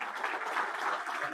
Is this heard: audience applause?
yes